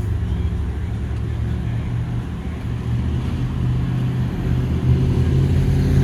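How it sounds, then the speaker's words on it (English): Cars driving along Elm Street in Dallas, Texas make a steady, moderately close low rumble of engines and tyres, swelling slightly near the end with no break. "cars travel right down the middle of the lane"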